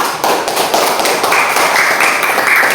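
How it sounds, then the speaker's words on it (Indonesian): Dense, loud applause from a class of students in a classroom, clapping steadily for a presentation group with no pauses for almost three seconds. "berikan aplaus untuk kelompok 2"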